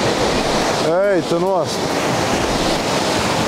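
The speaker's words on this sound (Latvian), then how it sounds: "ūdenskritums šoreiz ir ļoti, ļoti liels" A very large waterfall roars as a loud, continuous rush of falling water close by, while a person briefly calls out over it.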